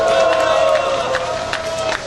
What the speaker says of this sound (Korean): 여러분의 뜨거운 박수로 시작하겠습니다